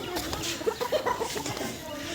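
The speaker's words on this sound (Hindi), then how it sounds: "इधर मुर्गियाँ दाने खा रही हैं" Hens pecking and eating scattered grain at a house under construction, soft clucks and short calls scattered through the clip over a steady outdoor background, with voices faintly present.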